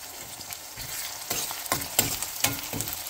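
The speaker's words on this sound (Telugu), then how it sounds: "కొంచెం కట్ చేసుకున్న వెల్లుల్లిపాయ వేసుకోవాలి" Chopped garlic frying in a pan for a cherry tomato curry, a steady sizzle broken by several sharp stirring scrapes and clanks of a spoon against the pan, close and fairly loud.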